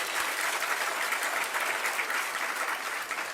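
Applause from an audience at a Raksha Bandhan sermon at Tilwara Ghat in Jabalpur: many hands clapping steadily and fairly close, a dense wash of claps without speech.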